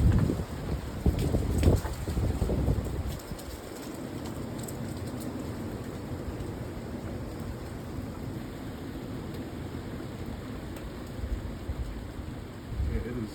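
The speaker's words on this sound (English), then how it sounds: "I hear the wind." Wind roars steadily during a severe thunderstorm in the Chicago area, with a loud rumbling burst at the start, then a constant dense rush like gusts and rain, close and sustained.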